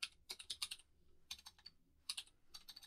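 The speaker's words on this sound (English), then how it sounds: "I can't type worth a damn today." Quick bursts of keystrokes on a computer keyboard, clustered clacks separated by short pauses, close and fairly quiet.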